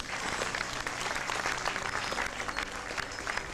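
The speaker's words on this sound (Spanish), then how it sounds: "Un aplauso para ella también." Warm audience applause at an anniversary ceremony for a community health centre in Chile, dense and steady clapping for a few seconds with no talk over it.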